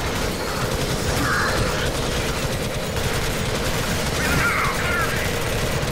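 A sentry gun in Alien Swarm: Reactive Drop fires a continuous rapid automatic stream, loud and relentless, with chattering mechanical clatter and a voice faintly underneath.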